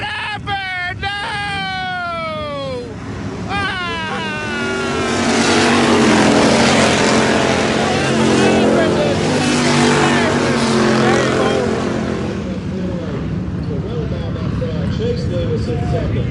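IMCA hobby stock race cars at Salina Speedway, a dirt oval, with engines rising to a loud, sustained roar as the pack runs down the backstretch, while an excited announcer talks over the racing.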